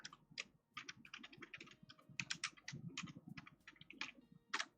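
Fingers type on a computer keyboard in a steady patter of quiet key clicks, faint and close, with no voices.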